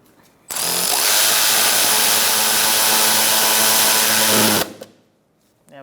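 A power driver with a T20 bit tightens a bolt on a Buick Encore inner fender liner, whirring loudly and steadily for about four seconds before cutting off abruptly.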